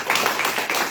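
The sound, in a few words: church congregation clapping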